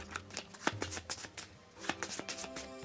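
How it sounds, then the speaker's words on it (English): A deck of damage cards for the Monster Hunter World board game is shuffled by hand, with crisp riffling clicks and brief flurries in two bursts, close and clear with no voices. "Let me just shuffle the damage cards and then we'll draw his time card."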